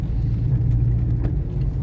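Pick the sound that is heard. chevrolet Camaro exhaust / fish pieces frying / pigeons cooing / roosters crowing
chevrolet Camaro exhaust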